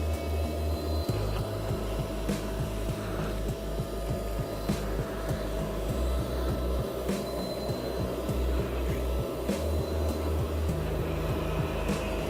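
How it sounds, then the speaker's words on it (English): A Karcher Puzzi 10/1 carpet cleaner vacuums water out of a carpet, a steady loud suction whine with rhythmic gurgling and knocking pulses as the tool is pushed and pulled across the pile. "Now I'm just vacuuming, trying to get as much of the water out of the carpet as I can."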